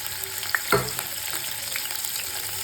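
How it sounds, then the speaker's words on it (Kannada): Paneer frying in ghee in a pan, a soft continuous sizzle with a few sharp pops and a light scrape near the start, quiet and close with no talking. "ಪನ್ನೀರ್ ಹಾಕ್ಕೊಂಡು ಸ್ವಲ್ಪ ಫ್ರೈ ಮಾಡ್ಕೊಳ್ಳೋಣ."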